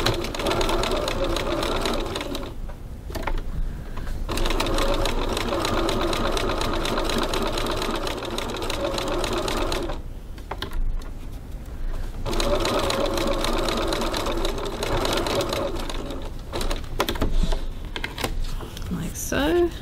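Sewing machine running a 3.3 stitch length through cork for a wallet, a steady close whirring stitch in bursts that stop briefly and restart.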